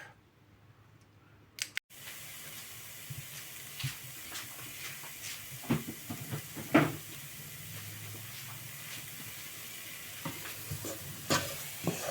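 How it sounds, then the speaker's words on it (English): Onions being stirred in a frying pan for a chicken curry, with a low steady sizzle under scattered scraping and clinking of a utensil against the pan, close and fairly quiet, no talking. "So now that you give the onions a stir, to begin with in the frying pan"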